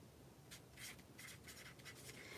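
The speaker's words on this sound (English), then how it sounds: "I am loving these Dollar Tree Crafter Square metallic markers. They're so fun for signing cards." Metallic markers scratch across a birthday card in short, quick strokes while writing, faint and close over a steady background hiss, with no voices.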